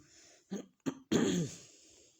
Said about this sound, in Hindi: खांसी कर रही हूँ